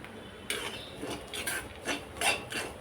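Metal spoon scraping and stirring dried coconut as it roasts in a pan for no onion, no garlic vatan, several short rasping strokes in a quiet kitchen with no talk.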